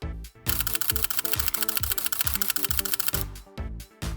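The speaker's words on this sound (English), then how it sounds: "you can actually see the shutter working here" An SLR camera with its lens removed fires its shutter again and again in a fast, steady burst of sharp mechanical clicks, close and clear, with a short pause near the end before a few final clicks.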